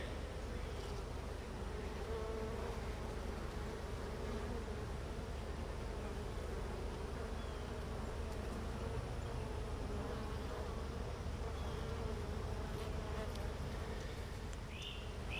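Honeybees buzzing around an open hive with a new queen, a dense steady hum that continues unbroken throughout, close and fairly loud with no talk.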